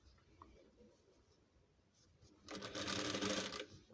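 A sewing machine stitches a velvet house dress, starting abruptly after a quiet stretch and running loud and steady with a fast mechanical whir for the last second and a half.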